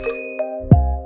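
A notification bell sound effect: a bright metallic ding ringing out with a sustained tone, struck again near the end, close and loud with no voices.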